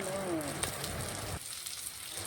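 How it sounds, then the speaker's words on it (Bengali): Onion and capsicum, mixed with turmeric and chili powder for chili chicken, sizzle steadily in a pan; the frying hiss is close and continuous, then drops a little quieter partway through. "দেখুন পেঁয়াজ আর ক্যাপসিকাম কিন্তু হালকা ভাজা হয়ে গেছে।"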